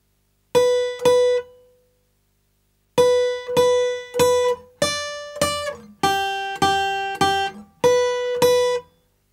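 Guitar plucks out the opening riff of an easy pop song as single picked notes, with paired and grouped plucks ringing clearly in a steady, close, clean rhythm after a short pause.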